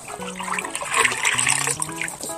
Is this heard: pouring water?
yes